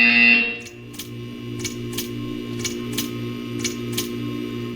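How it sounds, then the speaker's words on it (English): Buzzer in the video game Portal 2, a loud harsh electronic tone at the start, then a low pulsing hum with a series of sharp, evenly spaced clicks. "You will hear a buzzer."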